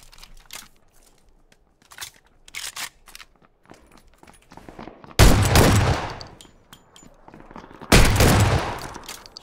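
Gunfire in a first-person shooter game: scattered sharp single shots, then two loud, sustained bursts of automatic fire a few seconds apart, with quieter clicks and rattles in between.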